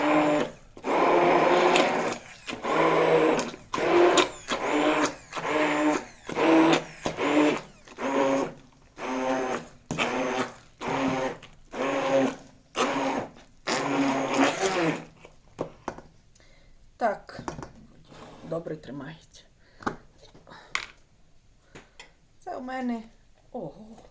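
A blender whips mashed potatoes with three eggs in a run of short, regular motor bursts about a second apart, loud and close at first, then fainter and more scattered toward the end.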